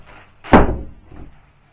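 A bedroom door swings shut with one firm, close thud, and a faint rattle follows just after.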